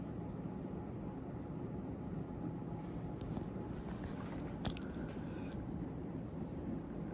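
A 1986-1988 Emerson 1895 stack ceiling fan with a noticeable wobble runs on high speed, giving a steady, continuous low whirring hum with faint ticks and rattles, alone throughout.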